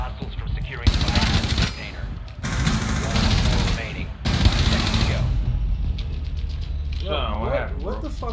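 Rapid automatic gunfire in Rainbow Six Siege, loud sustained bursts broken by short pauses, followed by a player's voice talking over fading game sounds.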